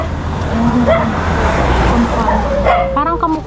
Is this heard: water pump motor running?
no